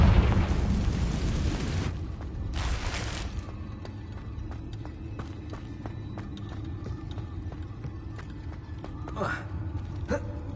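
A Confringo fire spell explodes in the Hogwarts Legacy video game, opening with a loud roaring blast that fades into rumbling, followed by a second brief burst and game ambience with scattered clicks.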